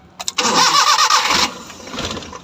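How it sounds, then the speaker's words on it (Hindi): A Suzuki Bolan van engine being started: two short starter clicks, then a loud cranking whir for about a second before the engine catches and settles into a rough idle, close to the microphone. "गाड़ी को स्टार्ट करूँगा"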